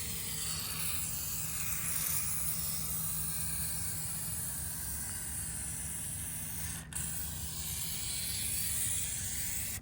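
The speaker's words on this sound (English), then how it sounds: "So you can either use the brush applicator or the spray bottle to just get the bottom sills of these doors." A spray bottle applies rustproofing to the bottom door sills of a Honda Element, producing a steady close hiss that runs nearly unbroken for about ten seconds, with one brief break near the end.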